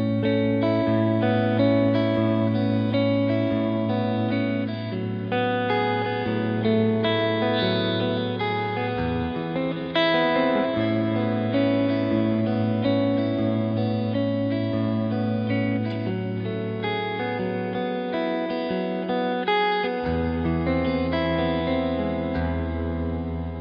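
Electric guitar played through a T2 reverb pedal on reverb setting 3, sustained chords and notes with a lush, washy tail running continuously and fairly loud throughout.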